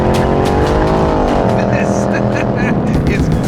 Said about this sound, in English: This is new base Mustang GT. The star of the show is still the 5-liter V8.